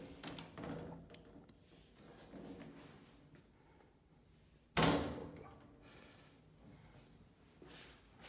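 A glass door to a living room in a flatshare swings open with a single sharp knock or clunk near the middle, surrounded by quiet room tone and faint handling noise.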